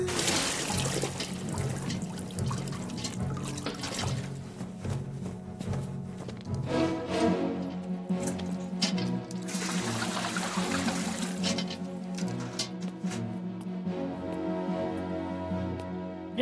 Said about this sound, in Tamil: போய் அந்த குடத்துல தண்ணி புடிச்சு கொடுங்க